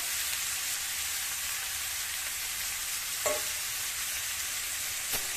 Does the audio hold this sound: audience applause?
no